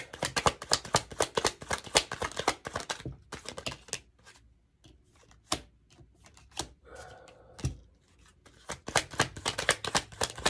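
Tarot cards are shuffled by hand in quick bursts of crisp riffling and snapping, loud and close, with a quieter pause in the middle before the rapid shuffling picks up again.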